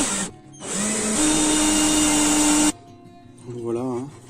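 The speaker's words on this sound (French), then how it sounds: "je vais commencer par percer un petit peu" A power drill bores small holes to mount a 390 W solar panel on a converted camper van, whining loudly in a sustained close burst after a brief start, then stopping as someone speaks.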